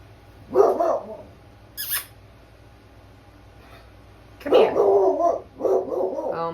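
A neighbour's dog out on a walk barks in short bursts: one bark, a high yip, then a quick pair of louder barks, with quiet stretches between.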